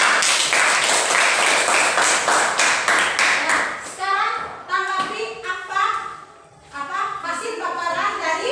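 A class of children claps together for a few seconds, a dense burst of hand claps, before it breaks off and voices talk over a busier, mixed background.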